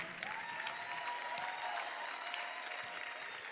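Steady applause from a summit audience in Lagos, dense continuous clapping filling the room for several seconds at moderate distance, with no voices standing out.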